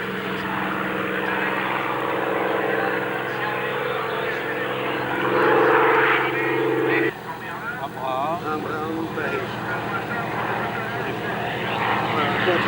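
A vintage Messerschmitt Bf 109 and a Spitfire fly past at an airshow, their piston propeller engines droning steadily with a rising pass partway through, under continuous commentary from a man.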